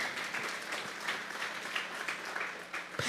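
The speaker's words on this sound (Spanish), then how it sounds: "Vamos a darle una ofrenda de palmas a Dios en nuestra hora." A church congregation offers a round of clapping to God during a sermon on trials, a steady rattle of many palms at moderate volume that swells slightly and then ends with one sharp final clap.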